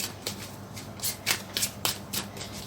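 Tarot cards being shuffled and drawn for a love reading, giving several crisp riffling snaps at an irregular rhythm, close and moderately loud over a faint steady hum.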